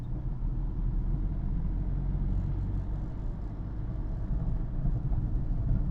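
A car in third gear crawling through bumper-to-bumper traffic on Chennai's OMR, heard from inside as a steady low engine and road rumble with no talk.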